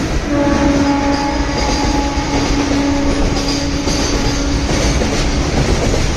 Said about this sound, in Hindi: ट्रेन आ गई रफ्तार में